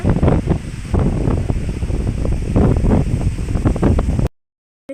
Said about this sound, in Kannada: ನೋಡಿ ಹೆವಿ ಗಾಳಿ ಬೀಸ್ತಾ ಇದೆ ಇದು ಅರಳಿ ಮರ